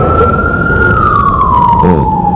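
An emergency vehicle siren wails loudly and close as one long, steady tone that slides slightly lower in pitch, over a rumbling engine.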